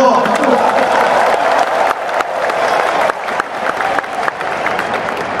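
A crowd applauds and cheers at a political party gathering for Prabowo, the Gerindra party chairman. The clapping is dense, loud and sustained, with a voice talking over it throughout.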